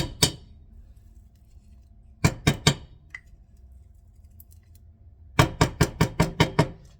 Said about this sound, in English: I'm going to chop all these up and start cooking.